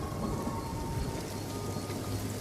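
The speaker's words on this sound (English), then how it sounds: "An early shower is the first rain he's ever felt." An early rain shower falls steadily across open savanna, a dense, even hiss of drops spattering on the ground and vegetation with a faint low rumble beneath, continuous and fairly close throughout.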